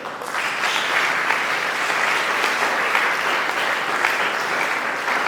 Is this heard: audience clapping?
yes